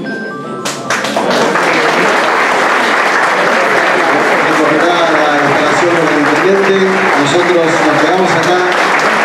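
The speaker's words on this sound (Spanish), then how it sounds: "con un fuerte aplauso también despedimos al señor ministro de Educación" Loud, sustained applause from an audience sending off the Minister of Education, Gabriel Sánchez Siri, at an educational and technology center event, with people talking over the clapping.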